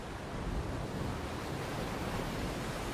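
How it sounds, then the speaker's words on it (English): Broadband ocean surf at Betty's Bay rolls on steadily with no distinct breaks, a continuous wash of crashing waves with some wind rush, alone without voices. "Just listen to the waves crashing here at Betty's Bay."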